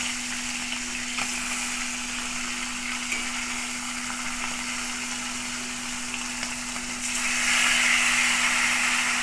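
Hilsa fish pieces fry lightly in oil in a pan, making a dense, steady sizzle up close, with a low hum underneath and the hiss swelling briefly toward the end.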